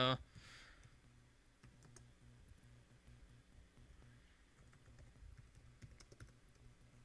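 Faint clicks from typing on a computer keyboard come in scattered, irregular taps over a quiet background hum, with a person's voice talking briefly.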